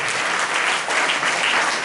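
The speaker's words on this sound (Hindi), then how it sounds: "एक बार जोरदार ताली बजाएंगे" A church congregation in a Hindi-language service bursts into loud, sustained applause, a thick, even wash of many hands clapping at close range with no pause.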